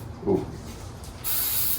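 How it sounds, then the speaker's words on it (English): A short hissing burst from an aerosol pre-painting prep spray can near the end, preceded by a faint muffled sound and quiet background. "I'm going to try to clean off all the dust with this pre-painting prep spray"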